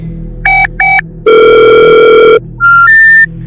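Telephone call tones play loud and alone while a number is dialed: two short electronic rings, a long sustained buzzing tone, then a pair of stepped tones.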